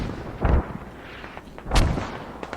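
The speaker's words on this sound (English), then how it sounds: "RB needs some of their mortars to be hitting the flag" Video game mortar fire: two heavy, booming thuds about a second apart, loud and close, with a low rumbling tail after each and no voices.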